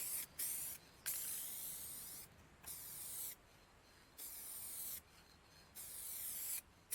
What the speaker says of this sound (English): Now for the colour coats. Thin coats and then build it up.